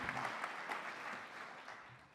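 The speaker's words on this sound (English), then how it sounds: "round of applause, please." Audience applause at a Retail Fest 2026 panel debate, a steady wash of many hands clapping throughout, moderately loud and continuous with no pauses.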